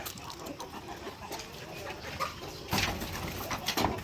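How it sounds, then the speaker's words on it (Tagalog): Gamefowl hens cluck softly in a farmyard, scattered faint calls over a quiet background, growing louder near the end with a burst of movement. "manok panabong na babae"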